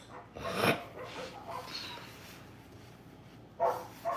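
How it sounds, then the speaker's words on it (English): Several dogs barking outdoors, heard as muffled bursts at moderate distance: one cluster early on, then two sharper barks near the end, with quieter snuffling in between. "My dogs are outside making a bunch of noise."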